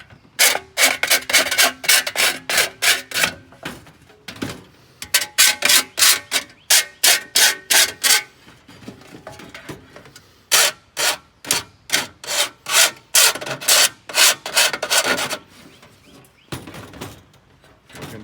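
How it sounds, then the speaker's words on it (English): A metal file rasps burrs off the cut edge of a one-gallon steel paint can, in loud close strokes with a steady back-and-forth rhythm, grouped into bursts separated by brief pauses, with no talking. "you might want to take a file and go ahead and take care of these burrs"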